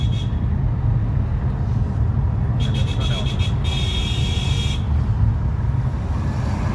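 A car engine runs steadily during a driving lesson, a low continuous rumble with road noise under an instructor's voice.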